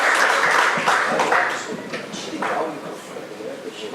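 Congregation at a pastors' meeting applauds in a dense burst that slowly thins, with voices mixed into the clapping.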